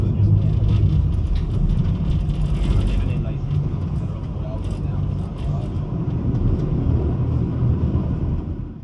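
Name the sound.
Copenhagen floating bus boat departing Orientkaj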